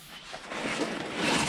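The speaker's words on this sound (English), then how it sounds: "We're gonna hit it with this wire wheel." A wire wheel grinds against a bolt clamped in a vise during a Toyota pickup 22RE water pump job, a steady, loud, harsh abrasive whir that builds slightly and continues without pause.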